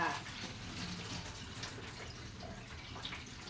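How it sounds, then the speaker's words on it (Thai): Cold water runs steadily from a tap to rinse cooked cassia leaves in a kitchen, making a continuous close splashing hiss with no pauses. "ปล่อยน้ำเย็นล้างเลยค่ะ ล้างน้ำขมออกเลยค่ะ"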